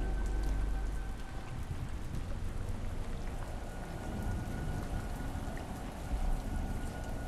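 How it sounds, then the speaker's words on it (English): Steady rain falls in a video game, a dense, even patter of drops continuing throughout with no voices. "The rain seems really cool."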